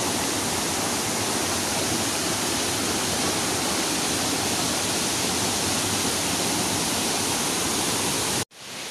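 Steady, loud roar of a waterfall at Curug Sawer Nambo in Bogor, West Java, a dense broadband rush of falling water that continues unbroken and then cuts off abruptly near the end.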